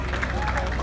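Applause for the first class winner at the Salon Privé 2019 car concours d'elegance awards: dense, continuous clapping from a crowd, with voices mixed in throughout the short burst.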